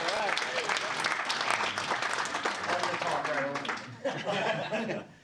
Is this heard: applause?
yes